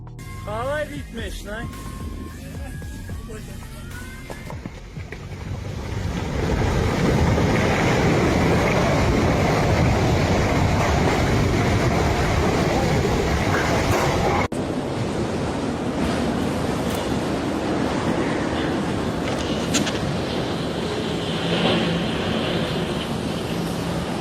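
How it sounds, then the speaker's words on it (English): Strong wind roaring during a natural disaster, a loud, continuous rushing buffet that batters the microphone and grows heavier after a few seconds, with excited voices shouting over it. "Look at that damn wind"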